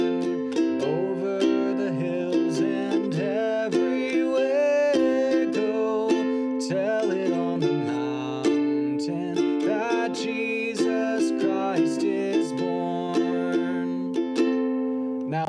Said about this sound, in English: I'm doing kind of a syncopated strum pattern, so my downs are longer than my ups